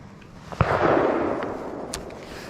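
A single shotgun blast from a Monday night trap shoot cracks off in the distance, followed by a rolling echo and a couple of fainter pops, heard outdoors with no talking.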